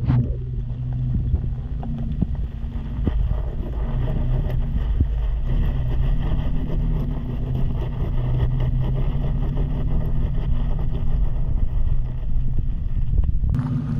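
A Jeep with a welded differential circles on loose ground, heard as a steady engine drone and tire rumble with strong wind buffeting the microphone from an open window, continuous and fairly loud, no talk.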